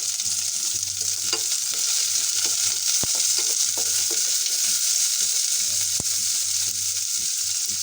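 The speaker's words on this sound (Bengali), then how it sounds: "আর এইখানে পেঁয়াজ আর হচ্ছে কাঁচামরিচ আর রসুন কাটা দিয়ে দিলাম।" Chopped onion, green chilli and garlic frying in a little oil for beef, a dense, steady sizzle throughout at close range, with a couple of sharp clicks and faint stirring.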